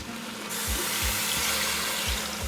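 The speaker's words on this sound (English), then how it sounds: "Then I'm going to add some water" Water poured from a tap or jug into a pot of Jamaican oxtail stew with softened onions and oxtails, a steady close rush with a faint low sizzle beneath, continuous and loud with no talking.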